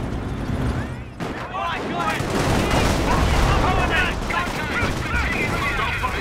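Gunfire from the video game Company of Heroes during a battle at Carpiquet airfield, with loud rapid bursts and volleys of shots that continue throughout, mixed with in-game voices.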